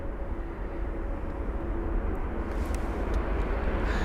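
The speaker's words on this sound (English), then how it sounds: "Here's a 321neo." An Airbus A321neo departs Heathrow runway 27 right, a steady broadband jet roar heard from a distance that swells slightly and holds throughout, with no talk.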